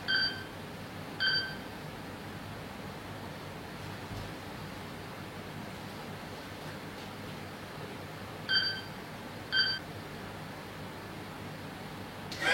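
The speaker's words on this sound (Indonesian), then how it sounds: "Suara bip-bip ini cuma buat contoh doang." Two pairs of short electronic beeps ring out, one pair near the start and another near the end, over a steady background hiss.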